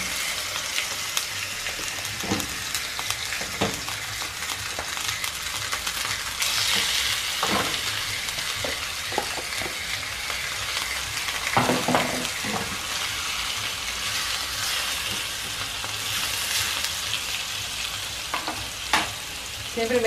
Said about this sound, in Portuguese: Já vou vir direto com a bisteca